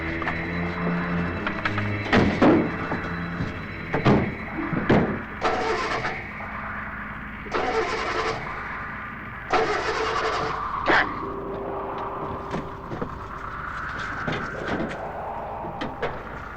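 A car engine turns over in repeated short cranking bursts, several tries spaced across the span, fairly close and loud, with a door-like clunk and faint background sounds between attempts.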